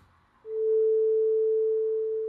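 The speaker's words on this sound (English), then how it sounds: "It almost plays like a sine wave to an extent" A clean, steady synth tone like a pure sine wave swells in after a short quiet moment and holds at an even pitch.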